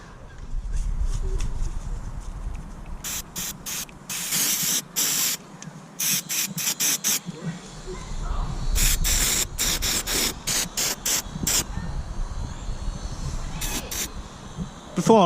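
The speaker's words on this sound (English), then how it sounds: "Got the old maintenance spray here." Repeated short hissing bursts from an aerosol maintenance spray can on a 1982 Ford Sierra 2.3 Ghia barn find, some quick and some longer, close up with background noise between the sprays.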